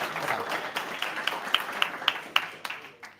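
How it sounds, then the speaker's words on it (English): Audience at a Solana Cypherpunk demo day in Berlin giving a speaker a modest round of applause, moderate clapping with a few sharp, distinct claps standing out before it fades away. "Warm round of applause for Janice."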